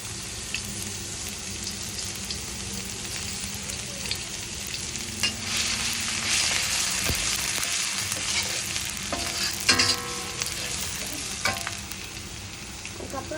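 Garlic and pepper fry in a pan for a veg cutlet, making a steady, fairly loud sizzle, with stirring scrapes and a few clinks near the end and no talking.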